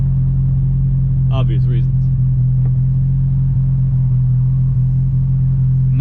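A Fiat X1/9 with new forged pistons and a PBS street cam runs on a test drive, giving a loud, steady low engine drone. A voice briefly speaks over it.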